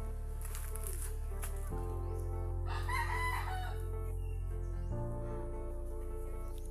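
A rooster crows once, fairly close, over a steady low engine-like hum that runs through the whole stretch.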